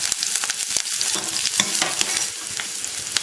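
Small shallots, green chili and curry leaves fry in hot oil, an even close sizzle with crackling pops and the scrape of stirring, loud and steady with no talking.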